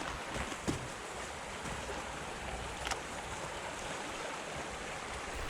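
A river rushes steadily, a continuous broadband wash heard close and alone, with a couple of brief splashes or knocks.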